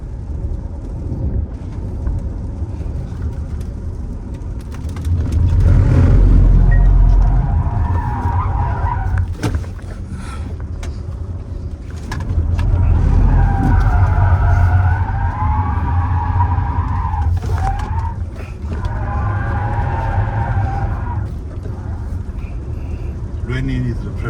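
A Zeekr 001 electric car drifts around a wet racetrack, tires squealing in long rising and falling whines through repeated slides, with a passenger talking over it.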